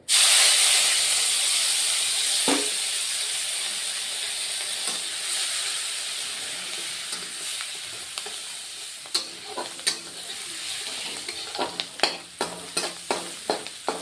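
Chopped onions fry in hot oil in a pan, giving a loud, steady sizzle and hiss that fades slightly over time, broken later by sharper scraping stirs and spatters, with no voices.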